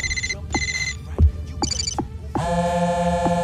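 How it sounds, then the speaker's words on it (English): Electronic mobile phone ringtone in the NBA Live 07 video game, sounding loud and clear as a series of repeated short melodic tone bursts followed by a longer sustained ringing chime. "The only real extra options you've got to fiddle with are the different ringtones you want to use for the various people who will be calling you between"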